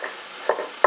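Onions dry-fry in a pan without any oil, giving a faint hiss and two short, close stirring scrapes.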